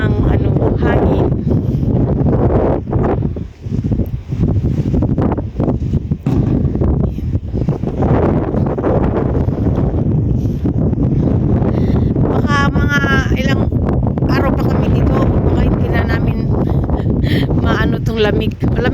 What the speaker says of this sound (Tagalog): Sobra na ng hangin.